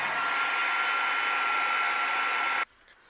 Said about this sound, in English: I'm going to use my heat gun and speed up the drying process.